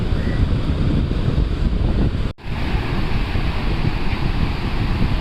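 Steady roar of sea surf breaking on a shore, buffeted by heavy wind noise on the microphone; a short near-silent dropout occurs partway through before the continuous crashing resumes. No one speaks.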